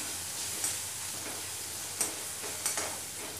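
Spices being stirred into puffed rice poha (murmura) in a pan give a faint, steady low sizzle with three soft scraping knocks of the spoon, no voices.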